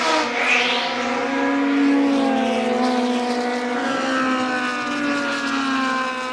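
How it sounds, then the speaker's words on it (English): A late-1970s (1978) Formula 2 racing car laps Silverstone during the Classic's F2 qualifying, its engine note rising and falling with strong, steady harmonics as it passes, loud and continuous throughout. "tube shaped car just being lapped by Andy Smith in the very late 1978 Formula 2 car"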